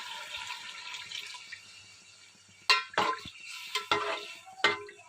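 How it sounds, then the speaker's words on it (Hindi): Water is poured into a pot of masala-fried chickpeas, giving a broad splashing hiss with several sharp, close pours and splashes over a faint background sizzle; no one speaks. "अब इसमें मैं पानी शामिल कर देती हूँ"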